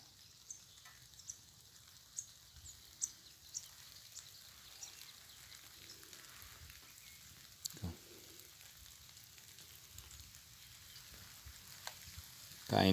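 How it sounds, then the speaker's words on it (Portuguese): Light, fine rain falling steadily outdoors in the early morning, a soft continuous hiss with scattered small ticks of drops, faint and distant, without talk. "Caindo aquela chuva bem fininha."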